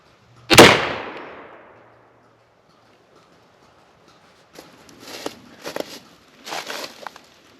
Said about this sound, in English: Shot number 4.